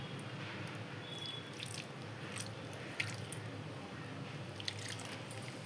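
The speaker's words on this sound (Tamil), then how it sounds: "தண்ணியை ஊற்றி" Water poured into a vessel to soak kozhukattai filling in a home kitchen, a soft steady trickle and splash, fairly faint, with a few small drips and knocks.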